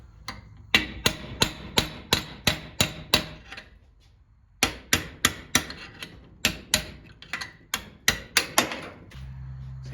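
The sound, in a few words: hammering out the front bearing of a cart wheel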